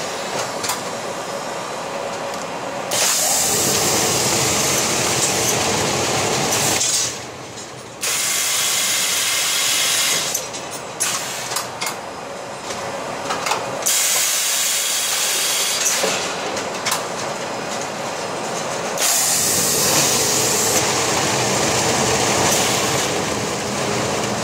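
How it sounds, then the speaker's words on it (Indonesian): An industrial press machine at work, loud broadband mechanical hissing and roaring that starts and stops in long cycles, broken by clanks and ratcheting clicks, close by with no speech. "Kita masih tetap bekerja di mesin press."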